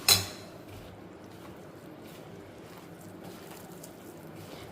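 Pulihora rice made with vakkaya (karonda berries) being mixed with spice powder in a vessel: a sharp utensil clink at the start, then a steady, soft scraping and rustling of rice throughout, close by and with no talk.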